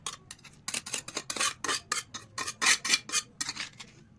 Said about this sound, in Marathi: आबडधोबड खलबत्त्यात बारीक करून घेणार आहोत